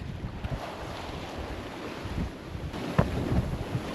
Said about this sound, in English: It's all these current driven waves.